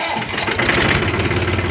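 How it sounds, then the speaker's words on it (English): A tractor engine, started despite a low battery, running in a steady mid-pitched idle with a rough knocking chug, close and loud throughout with no talk. "now this the tractor is already started"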